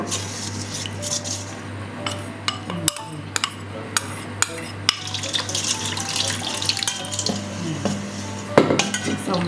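Tapioca flour batter for an oyster omelette is stirred in a bowl, with clinks and scrapes of a utensil against the dish over running tap water in a kitchen.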